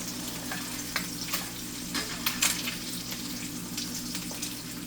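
An egg fries in plenty of oil in a pan, a dense steady sizzle and spatter up close with occasional louder pops, no voices.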